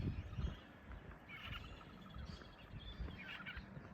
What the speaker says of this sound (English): Oh, what is that bird?